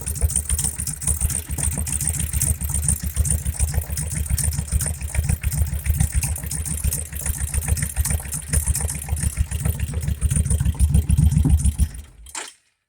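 A Suzuki Intruder 1500 motorcycle engine idles close by after a homemade graphite exhaust gasket repair, a steady loping low-pitched throb with even pulses that runs loud for about twelve seconds before cutting off abruptly.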